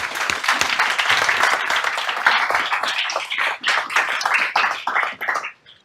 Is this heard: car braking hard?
no